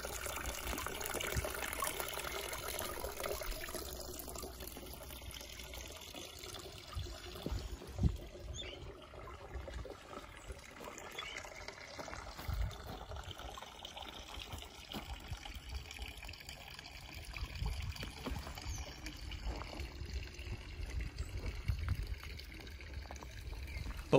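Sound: burbling running water from a garden pool, fountain and stream

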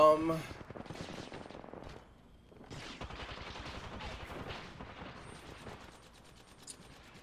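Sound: gunfire in the video game Apex Legends

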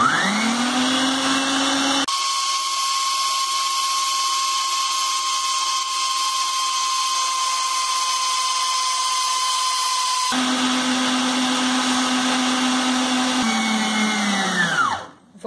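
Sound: electric stand mixer beating sugar for cake batter

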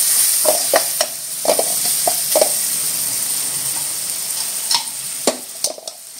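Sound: tomato and coriander stir-frying in oil with masala

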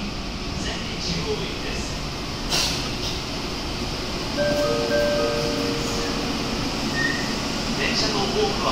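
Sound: Osaka Metro subway train arriving at platform

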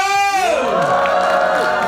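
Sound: audience cheering and shouting at cinema stage greeting

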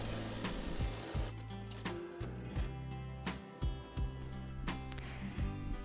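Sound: sewing machine stitching the crotch seam of overalls

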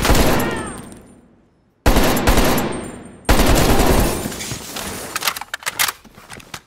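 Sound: heavy machine gun firing in Call of Duty Black Ops Cold War video game

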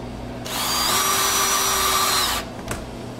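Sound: power drill driving screws into refrigerator door gasket

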